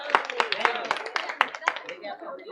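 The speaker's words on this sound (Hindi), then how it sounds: "सभी भाई बहन जोरदार ताली दीजिए हमारे" Brief bursts of hand clapping for the team at a Train the Trainers session in Kolkata. The sharp claps are fairly close and come in uneven spurts, mixed with voices talking over them.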